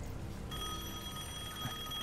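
A telephone rings in the video game Devil May Cry 5, a bright bell ring that starts abruptly after a short quiet stretch and continues, loud and close.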